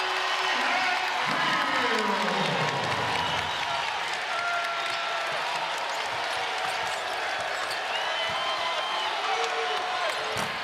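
Dense, loud basketball arena crowd roar at a Louisville Cardinals home game against Duke, a sustained wash of cheering with a whistle-like rising tone early and commentators talking over it.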